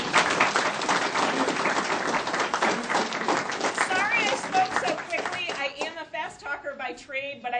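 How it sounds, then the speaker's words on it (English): An audience claps and applauds at a legal conference talk, dense sustained clapping that thins toward the end into scattered individual claps. "She really deserves another round of applause."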